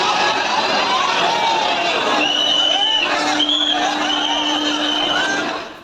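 A dense crowd packed onto the Surat railway station platform waiting to board a train, a constant babble of many voices with a long whistle-like tone running through the middle.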